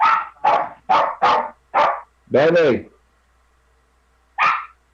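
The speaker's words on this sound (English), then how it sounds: "My dog's going crazy." A dog barks in a quick run of about five sharp, loud barks at close range, followed by a longer yelping bark and one more bark after a pause.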